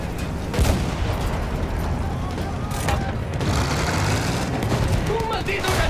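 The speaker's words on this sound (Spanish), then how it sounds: "¡Un maldito cañón de campo ahí! ¡Esas ametralladoras están conteniendo a nuestros chicos!" Battlefield 1 battlefield din with machine-gun fire and field cannon booms, a dense continuous roar of shots and blasts with shouted voices mixed in throughout.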